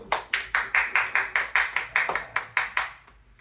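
A small group clapping at a birthday celebration, about a dozen quick, evenly spaced claps close by that slow and fade toward the end, with no voices over them.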